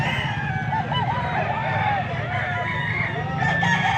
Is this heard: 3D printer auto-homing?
no